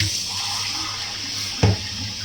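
Water poured into a pot of rice frying in oil, a steady close rush of liquid with a brief louder splash near the end, no voices.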